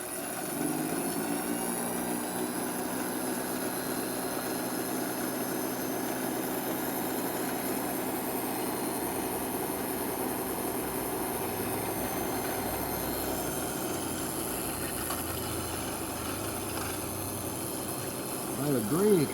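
A Stark No. 4 lathe spinning at high speed, its motor giving a steady, sustained whine with layered harmonic tones that hold constant throughout, growing slightly louder near the end.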